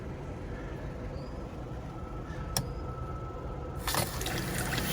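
Water from a solar-powered pump setup with an accumulator and battery runs in a quiet, faint steady trickle, with a couple of brief clanks and a louder splashing surge near the end.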